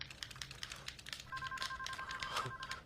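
A steady electronic ringing tone sounds over a busy patter of clicks and taps, fairly faint.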